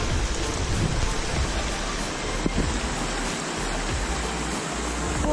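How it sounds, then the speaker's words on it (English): Steady rain pours down on a creek during a thunderstorm in a dense, even hiss, with a low rumble underneath and no voices. "started raining pretty good"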